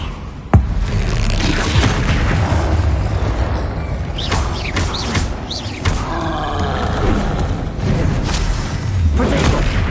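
Spell blasts and explosions crash through wizard combat in Hogwarts Legacy, a dense, loud barrage with a sharp bang near the start and repeated whooshing bursts layered over rumbling action noise.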